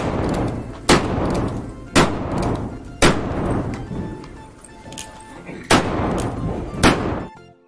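Sharp pistol shots ring out one after another, six loud cracks spaced about a second apart with short echoing tails.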